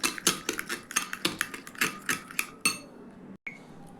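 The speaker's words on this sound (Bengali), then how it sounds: "এবার দই বীজটাকে খুব ভালোভাবে মিশিয়ে নেব।" A spoon clatters rapidly against a bowl while yogurt starter is beaten until creamy, a steady run of close, bright clinks and scrapes that stops abruptly near the end.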